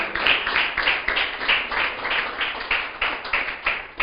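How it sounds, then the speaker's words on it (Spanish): A church congregation applauds during a sermon, with a steady, rhythmic clapping of many hands that continues evenly throughout, fairly close and without talking over it. "Aplauda al Señor"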